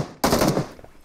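Weapon fire in a shooting video game, a sudden loud burst of rapid shots lasting about half a second, then a few fainter trailing pops.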